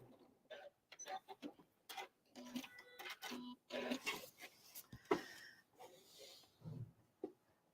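A sewing machine runs straight-line quilting across a Valentine's scrap place mat backed with foam stabilizer, stitching close up in short bursts separated by brief pauses.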